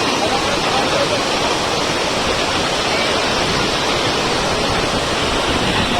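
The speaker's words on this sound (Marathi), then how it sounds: "वाव पाणी खूप वाढलेलं आहे भुशी डॅमला" Swollen water at Bhushi Dam in Lonavala roars in a dense, steady rush, loud and close, like a waterfall filling the whole scene without pause.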